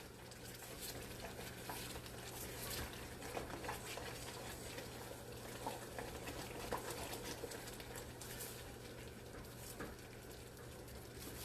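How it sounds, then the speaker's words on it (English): Hershey's syrup cake fudge mixture starting to bubble in a pot, a faint continuous simmering hiss with soft pops and a low steady hum beneath. "I don't know if y'all can hear that or not, but it's starting to bubble."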